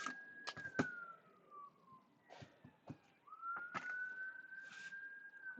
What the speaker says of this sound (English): I can hear a police siren or ambulance siren outside my window